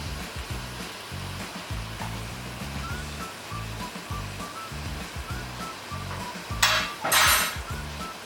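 Beef being stirred together with masala and vinegar in a pan for beef roast, giving a steady scraping, sizzling churn with rhythmic spoon strokes, plus a couple of louder bursts near the end.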